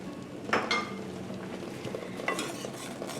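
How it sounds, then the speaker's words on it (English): Spoon stirring butter into banana pudding in a pot on the stove, soft scraping and a couple of light clinks against the pan over a faint, steady background, close and moderate. "stir until your butter has melted into the pudding"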